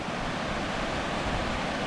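Floodwater rushes down an outback creek at a road crossing, a dense, continuous roar with wind buffeting the microphone, loud and steady with no voices.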